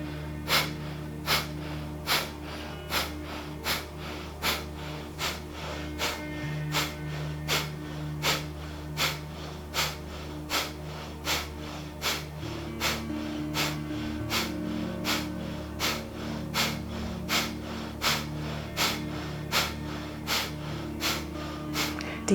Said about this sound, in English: start breath of fire